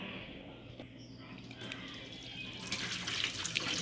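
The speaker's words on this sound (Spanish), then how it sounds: "retiramos el agua del arroz y lo vamos a enjuagar con un chorrito de agua y dejaremos escurrirlo" A thin stream of tap water runs over soaked rice being rinsed, a soft continuous trickle and splash that grows slightly louder and brighter toward the end, heard close and alone.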